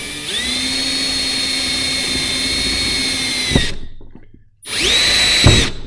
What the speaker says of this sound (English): So I'm going to actually take a drill and drill those.